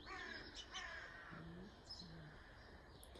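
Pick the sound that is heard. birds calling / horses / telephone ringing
birds calling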